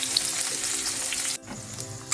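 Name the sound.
onions frying in a pan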